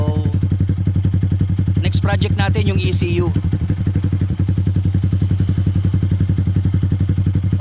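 A Yamaha Sniper 150 motorcycle with a stock engine and a Yoshimura Alpha exhaust idles steadily with a deep, rapid throbbing pulse throughout, while a person speaks briefly over it near the middle.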